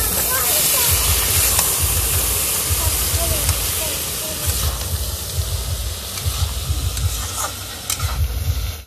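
Chowmein noodles sizzling in a hot wok at home with onion, chilli and cabbage, a loud continuous hissing sizzle with rhythmic low scraping and tossing thumps, while someone talks over it.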